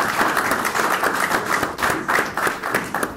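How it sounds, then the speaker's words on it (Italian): Audience applause at a public forum in Rimini marking an anniversary of the Russian-Chechen war, brisk clapping with a pulsing, near-rhythmic beat, fairly close and without speech. "vi prego di fare un applauso al nostro"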